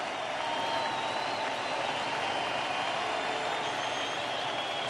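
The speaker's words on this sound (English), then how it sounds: "This crowd has been great and in it from the beginning over 6 hours ago." A World Series stadium crowd at a Red Sox versus Dodgers game cheers and applauds in a continuous loud roar that fills the whole stretch, with no distinct voices standing out.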